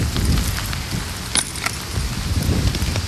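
Rain falls steadily on pavement in Texas after a long summer drought, a dense even hiss with scattered louder drops and gusts of wind.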